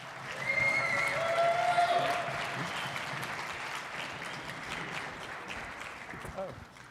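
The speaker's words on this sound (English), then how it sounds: "Let's give him a round of applause." Crowd applause at a livestreamed tech conference, a dense burst of clapping that swells early and then tapers off, with a few voices and a brief tonal sound over it.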